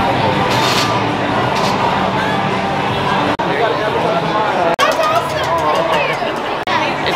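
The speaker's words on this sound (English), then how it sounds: "You have the crowd of people here." A dense crowd murmurs and chatters along a St. Patrick's Day parade route in Lexington, Kentucky, forming a constant close hubbub with nearby voices talking over it.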